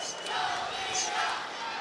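The arena crowd at the Shaw Conference Center cheers a women's boxing bout between Layla McCarter and Jelena Mrdjenovich, a fairly faint, sustained roar of many voices with a few louder shouts rising out of it.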